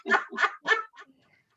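Person imitating a puppy's bark: three quick yappy barks and a fading whimper, close and clear against silence during a stretching class.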